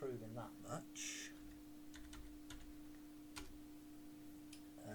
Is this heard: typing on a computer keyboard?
yes